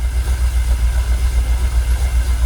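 A Jaguar XKR engine idles close by with a low, even pulsing rumble, steady throughout.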